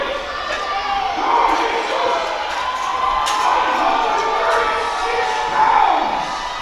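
Crowd at a 2021 national powerlifting meet cheering on a lifter attempting a 425 kg (937 lb) lift, a steady loud roar of shouts and cheers swelling over several seconds with scattered voices inside it.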